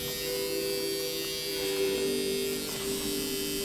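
A permanent makeup machine, switched on and running, gives a steady close electric buzz with a constant whining hum that holds evenly throughout, with no talking.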